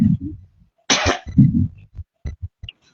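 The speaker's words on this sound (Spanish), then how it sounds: "perdón, que tenía un poco de tos" A single harsh cough bursts out, close and loud, surrounded by a man's speech before and after.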